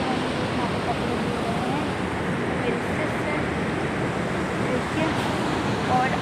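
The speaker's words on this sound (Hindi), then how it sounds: "और ये है नदी," Steady broadband rush of a river flowing continuously, fairly loud and close, with no distinct splashes or breaks across the whole stretch.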